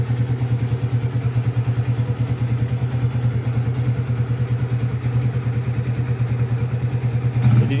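A Yamaha Vixion motorcycle with a rough clutch plate and hard gear shifting idles up close, giving a steady, even mechanical chug with a faint clatter and no voices.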